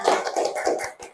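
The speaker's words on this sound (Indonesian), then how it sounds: "tepuk tangan semuanya" A classroom of students clapping their hands together in a short burst of several quick, overlapping claps, close and fairly loud, with no talking.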